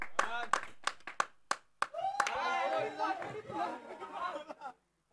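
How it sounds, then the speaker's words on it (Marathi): Spectators at a 40+ masters cricket final clap in a quick cluster of sharp, separate claps, followed by excited chatter and a commentator's voice with some laughter, fading to quiet at the end. "टाळ्यांचा गजर, आवाज लाखोच्या संख्येनं"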